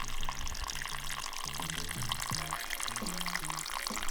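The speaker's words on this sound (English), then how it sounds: "all you can hear is the water from the glaciers that have melted running down the mountain" Steady rushing and trickling of glacial meltwater running down a mountainside in the Dolomites, Italy, a continuous close wash of flowing water with no voices.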